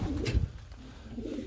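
Young pigeons coo softly in a pigeon loft, a low muffled burble that swells near the start and then continues faintly and steadily.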